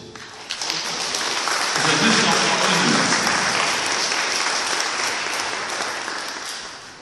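Applause from a church congregation for the children at a church consecration, a dense, steady clapping that swells after the first half-second and holds loud throughout before easing slightly at the end.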